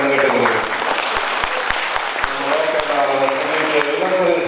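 A large audience claps loudly at a religious jayanti ceremony in Hosadurga, a dense sustained burst of applause with voices mixed in.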